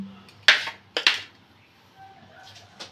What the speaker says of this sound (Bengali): তো দুটো কাঁচা লঙ্কা একটু লবণ দিয়ে এটাকে বেটে নিব এখন